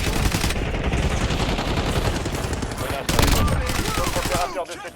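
Rapid automatic gunfire fills a squad-based battle royale shooter game, a loud, dense, continuous burst of shots close up that briefly intensifies before cutting off.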